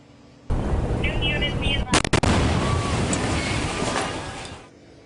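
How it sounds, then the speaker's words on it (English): A planned detonation of seized illegal fireworks: a loud, booming blast with a burst of crackling in the middle, heard over a roaring, rumbling background that fades out at the end. "A huge explosion just before 8 last night."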